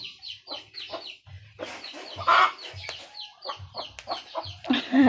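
A chicken clucks repeatedly nearby in short, busy bursts, with a few louder squawks and some background noise throughout.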